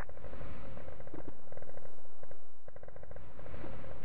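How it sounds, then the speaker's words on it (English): Sustained automatic gunfire in a video game, dense rapid bursts of shots suppressing a field gun position, loud and continuous with a slight dip near the end. "We have eyes on and are suppressing our field gun position now."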